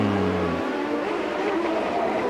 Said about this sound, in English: That's Roberto Guerrero spinning off.